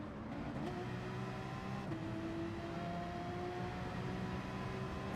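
Several race cars in Gran Turismo 7 during a Manufacturers Cup race, engines droning steadily with overlapping pitches as cars crowd close behind and alongside, a continuous loud in-game roar.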